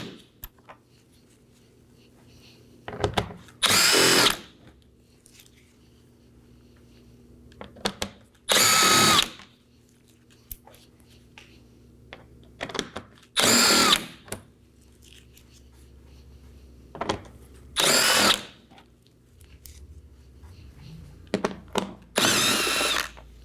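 A power drill runs in five separate bursts, each about a second long, while it backs out 7mm bolts from under the front bumper of a 2018-2024 Chevrolet Equinox. Quiet handling noises fill the gaps between the bursts.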